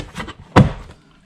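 Plastic door panel clips on a Nissan NV200 passenger door being pressed into place, a couple of faint taps and then one sharp thunk as a clip pops in.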